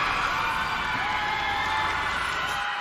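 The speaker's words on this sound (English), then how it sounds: "Hear the crowd roar as a sea of agents cheer on Blacklist International with that game 1 victory." A large esports arena crowd roars and cheers after a game 1 victory in a Mobile Legends pro league match, a dense, sustained wall of whoops and shouting that fills the space throughout.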